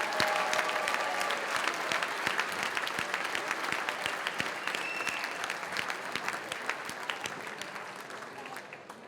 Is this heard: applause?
yes